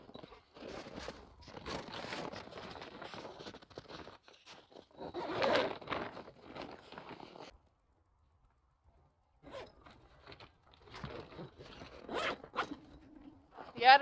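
Zippers on a winter cover over a chicken coop nest box are pulled open in cold weather, giving long raspy zipping runs in several bursts with a pause midway, close and fairly loud.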